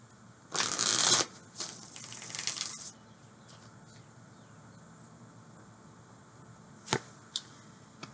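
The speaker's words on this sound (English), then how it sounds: "One more shuffle." Tarot cards get one more shuffle, a loud, close riffle burst lasting under a second, then softer card handling, followed by quiet pauses and a couple of sharp taps.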